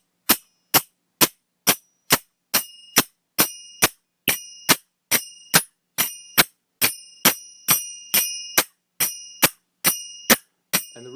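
Majeera hand cymbals strike together in a fast clapping motion, about two bright metallic clashes per second, close and ringing briefly.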